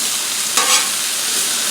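Chicken with zucchini, broccoli and asparagus stir-fries on a Blackstone griddle outdoors, a continuous close sizzle broken by one brief louder scrape or toss of the food partway through.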